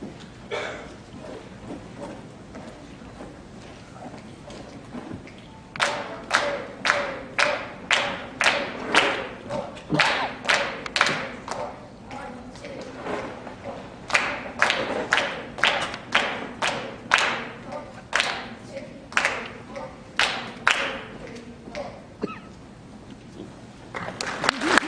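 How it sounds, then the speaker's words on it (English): A school concert percussion section claps out the rhythm of London Bridge in sharp, unison claps grouped into phrases with short gaps between them, over a quiet hall background. "the percussion section is going to demonstrate what we do when we have the students clap and count London Bridge"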